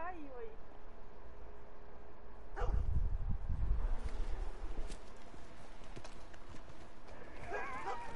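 Horse in the video game Red Dead Redemption coming closer, with soft hoof clops building to a louder burst of hooves and rumble midway, partly under a person talking.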